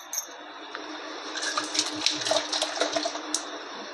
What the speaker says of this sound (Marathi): थोडं हे भांडं धुवून पण पाणी घेते.